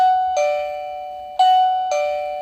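An electronic doorbell chime rings three times after being paired with its system, each struck tone ringing out and slowly decaying, loud and close with no talking.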